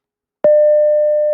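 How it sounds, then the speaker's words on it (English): A pure electronic tone played back in Raven sound-analysis software: a single steady, clean tone starting abruptly and holding at constant loudness, with no other sound present. "These are pure tones."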